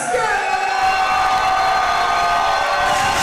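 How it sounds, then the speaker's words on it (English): Boxing crowd at the Colorado Combat Club 27 main event roars and whoops as boxer Xavier Vasquez is introduced, a loud, dense wall of cheering that holds steady throughout. "Strong pop from the crowd for Xavier."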